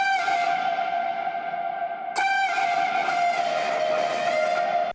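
A chopped sample in a remix, run through heavy drive fully wet with brightening EQ, reverb and compression, sounds as a sustained, distorted tonal drone with a sharp re-triggered chop partway through and a smeared, echoing tail.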